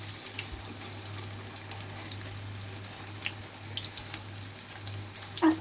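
Shrimp fritters fry in hot oil in a home kitchen, giving a steady, close sizzle and crackle with a low hum beneath and a faint clink near the end.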